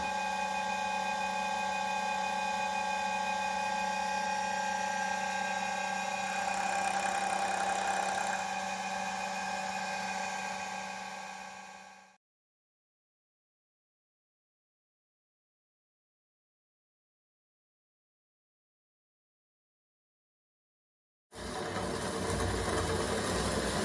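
A 1.5mm pitch thread is milled into the corners of a work-support block using an internal lathe threading bar. A steady, tonal machine whine runs for about twelve seconds, then stops into silence before another loud burst of noise.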